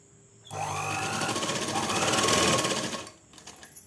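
A tailoring sewing machine runs one continuous, close, rapid stitching burst of about two and a half seconds on a sudithar pant, starting abruptly and then slowing to a stop.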